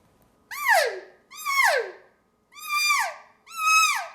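A latex mouth reed elk call gives four separate rising-then-falling cow-elk mews, each about half a second long and evenly spaced, clear and close with no talking.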